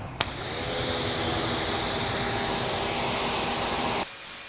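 Yeryork YE006 pressure washer firing a 15-degree nozzle outdoors, a loud steady broadband hiss of spray that starts with a click and runs continuously for about four seconds before cutting off abruptly.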